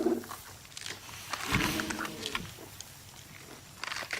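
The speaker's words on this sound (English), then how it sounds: "you can hear how destructive that is. The crashing and crunching of branches as they move through to take the food" Elephants feeding close by in the bush with a park ranger, crashing through and crunching branches; a loud burst of snapping and rustling mid-clip among scattered cracks and low rumbling.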